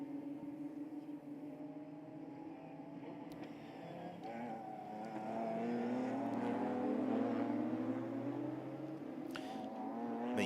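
Race cars crossing the start-finish line at the Paul Ricard circuit in France, engines droning and rising in pitch as they pass, a sustained layered roar swelling toward the end of the clip.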